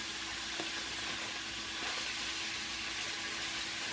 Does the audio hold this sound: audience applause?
no